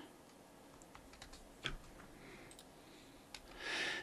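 Typing on a computer keyboard, a short run of faint, quick key clicks with a couple of slightly louder taps, close and quiet against a soft room hush.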